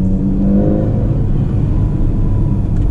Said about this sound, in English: you hear this amazing Ferrari sound